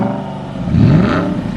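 Stock exhaust of an Aston Martin Vantage sports car rumbling at idle, swelling into a short, loud rev midway and then settling back to a steady, close burble.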